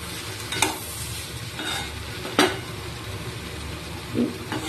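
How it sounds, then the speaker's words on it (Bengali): Garlic paste sizzles and fries in oil for ghugni, with a steady close hiss broken by a few sharp scrapes of stirring against the pan, and no talking. "রসুন বাটা একবারে দিয়ে দিয়েছি দিয়ে এবার নাড়াচাড়া করে কষিয়ে নেবো দুই থেকে তিন মিনিট"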